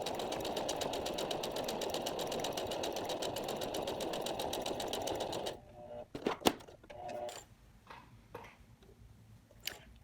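A sewing machine runs a 1/8 inch line of top stitching across a messenger bag slip pocket, a steady close mechanical whir for about five seconds that then stops, leaving quieter handling clicks and rustles.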